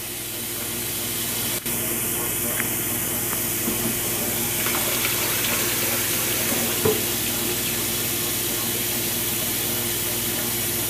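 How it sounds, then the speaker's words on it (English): Cold tap water runs steadily into a sink over cracked hard-boiled eggs, a continuous close hiss with a few faint knocks and clinks underneath. "And then we're going to rinse them one more time with cold water."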